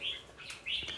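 A caged red-whiskered bulbul sings in two quick, bright whistled phrases, faint and close, with light background noise.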